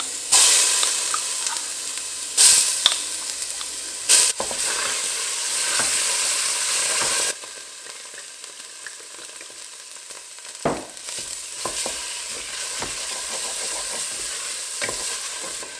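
Red curry paste frying in heated oil for Thai chicken curry noodle soup, a loud bright sizzle with sharp spatter bursts early, then settling into a quieter steady hiss with occasional crackles.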